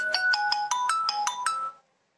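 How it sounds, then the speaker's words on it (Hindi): A phone rings with an incoming call, playing a bright melodic electronic ringtone of about eight quick tones in a bouncy pattern, loud and close, then stopping abruptly into silence. "ये किसी का फोन आ रहा है"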